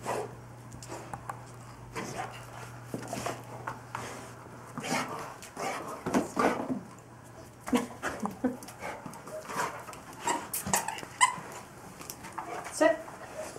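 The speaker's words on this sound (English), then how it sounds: "The happy dog." A happy dog pants and whimpers close by in quick, uneven bursts, with a few sharp thumps and a person talking now and then.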